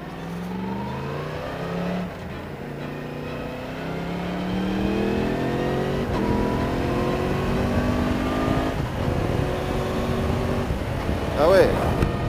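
A Yamaha MT-10 SP motorcycle accelerates hard with rising engine pitch, dropping briefly at each quickshifter gear change in a repeated climbing pattern, loud and close to the rider.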